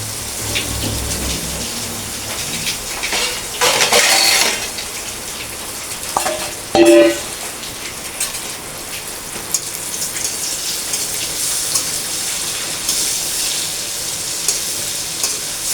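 Two eggs fry in a pan, crackling and spitting loudly up close, with bursts of sharper splattering and stirring between steadier sizzle.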